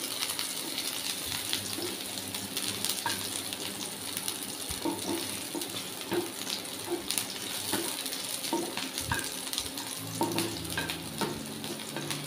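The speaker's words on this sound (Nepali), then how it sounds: "यसलाई चाहिँ हामीले गोल्डन ब्राउन हुनेसम्म फ्राई गर्ने।" Finely chopped garlic frying in a pan toward golden brown, a continuous close sizzle with light stirring scrapes and occasional utensil taps throughout.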